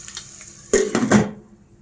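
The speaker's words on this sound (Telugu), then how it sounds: "మూత పెట్టేసుకుందాం." A lid set down on a cooking pan while making a chana dal curry, giving a short close metallic clatter with a quick ring that fades within half a second.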